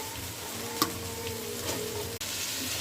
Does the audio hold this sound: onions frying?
yes